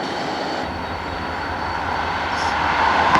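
A Norfolk Southern-run D&H freight train rumbles steadily on the Buffalo Line, a broad continuous roar that swells slightly louder toward the end, with no voices over it.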